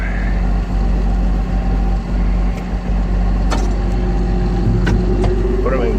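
Farm tractor engine idling steadily with a low, even drone throughout, joined by a few brief clanks and higher mechanical whines near the end.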